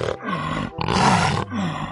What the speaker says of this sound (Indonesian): Wow, ada macan tutul.